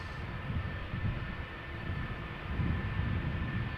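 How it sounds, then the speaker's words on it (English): A Cessna 680A Citation Latitude business jet, five years old, departing Amsterdam Schiphol Airport: a steady, low, rumbling jet engine roar with a faint high whine, moderately distant and constant, no voices. "Smartline Cessna 680A citation latitude 5 years old."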